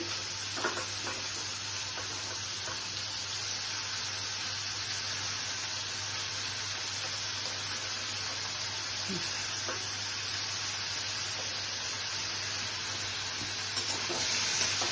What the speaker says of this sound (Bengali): বাটার দিয়ে পনিরগুলোকে একটু ফ্রাই করে নিচ্ছি